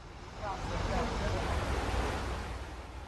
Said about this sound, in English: Water gushing through the partially destroyed Kakhovka Dam in Ukraine.